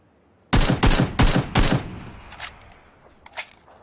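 Gunfire in PUBG: four loud, sharp bursts in quick succession up close, followed by fainter, scattered distant shots that trail off.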